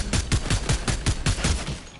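Rapid automatic gunfire in Fortnite, a loud steady burst of about a dozen evenly spaced shots rattling off close by, with no talk over it.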